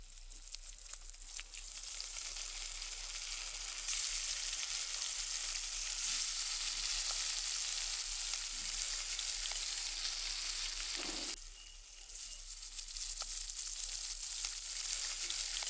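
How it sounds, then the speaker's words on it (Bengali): Hilsa fish heads frying in hot mustard oil in a kadai: a loud, steady sizzle runs throughout, briefly dipping before surging back at full strength. "তেল গরম হয়ে গেলে একে একে মাছের মাথাগুলোকে দিয়ে দেব।"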